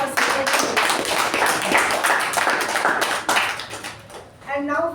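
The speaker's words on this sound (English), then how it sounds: "So a big round of applause for" A round of applause at a Toastmasters meeting, a dense stretch of hand claps that runs under a speaking voice and tapers off near the end.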